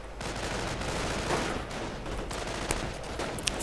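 Rapid bursts of rifle and grenadier gunfire crackle through a video game battle in the open, dense and continuous with a few sharper shots near the end, no voices.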